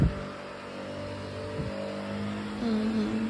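A leaf blower clears debris off a mini putt course, its engine droning steadily and fairly loud with slight shifts in pitch as it works, no voices.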